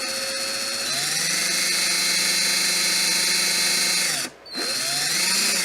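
An electric drill twisting coil wire whines at steady high speed, briefly stops, then spins back up and keeps running loudly.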